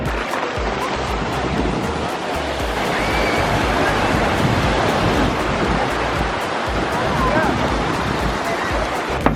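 Surf and wind at Vagator Beach in Goa, a continuous loud wash of breaking waves and gusty wind rumble, with crowd voices faintly under the roar.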